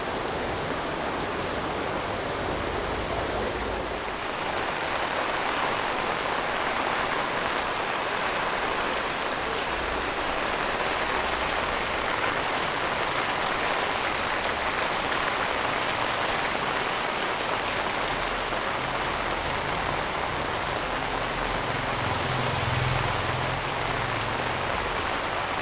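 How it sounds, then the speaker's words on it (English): Heavy rain pours steadily, a dense hiss of drops on surfaces with no letup and nothing else standing out. "Heavy rain."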